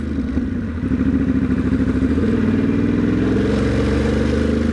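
A motorcycle ridden gently through a Manhattan commute, its engine putting out a steady, close, pulsing mid-range rumble that rises slightly as it rolls along, with a faint wind and road hiss above it and no talk.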